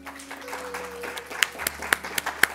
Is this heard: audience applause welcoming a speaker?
yes